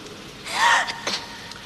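A single sharp sneeze, close and fairly loud, followed by a brief breathy sound, with no talking.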